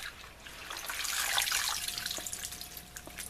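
Collard greens being washed in a kitchen sink, with a continuous wash of running, splashing water throughout, close and moderately loud, plus a few small drips and clinks near the end and no talking.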